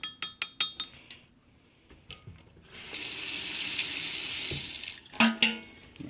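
A kitchen tap runs a steady stream of water over a spoon for a couple of seconds, framed by light metallic clinks of the spoon against a glass before and after.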